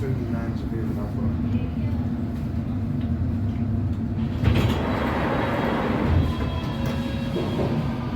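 London Underground District Line train heading to Upminster rumbling steadily through its run, with a low continuous roar, a brief surge of clatter midway, and faint voices chatting over the noise.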